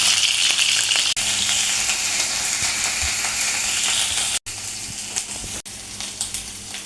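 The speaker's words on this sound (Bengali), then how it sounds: "পেঁয়াজটাকে একটু ভেজে নেব, হালকা ভেজে নেব" Onion and green chilli paste frying hard in a pan, a steady loud sizzle with faint stirring scrapes, broken by two very brief dropouts.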